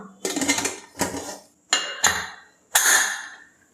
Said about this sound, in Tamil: மூடி போட்டு வெயிட் போட்டதுக்கப்புறமா